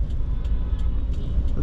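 Road traffic in Bangladesh rumbles close by, a steady low vehicle drone with faint intermittent clicks or taps.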